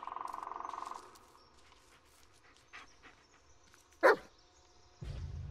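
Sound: dog barking in the video game Blair Witch

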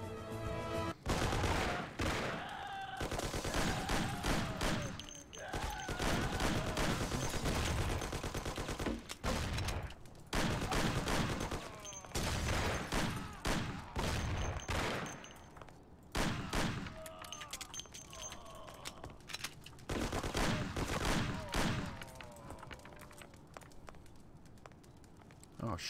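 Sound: gunfire from the video game Mafia

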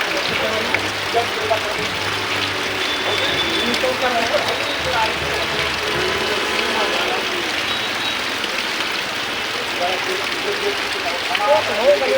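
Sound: heavy rain pouring

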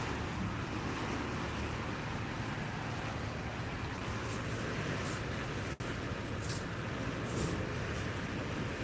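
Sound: heavy sea waves seen from hotel balcony

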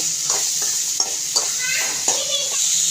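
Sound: vegetables sautéing and being stirred in hot oil

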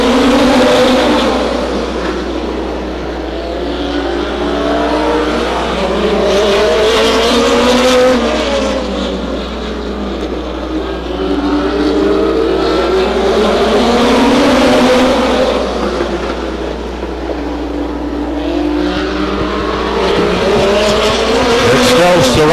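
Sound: race cars racing at Stockton 99 Speedway

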